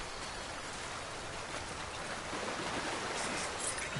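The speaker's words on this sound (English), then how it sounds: "Nice, nice waterfall." A waterfall in the video game Death Stranding rushes in a dense, steady roar with no talk, holding even and constant throughout.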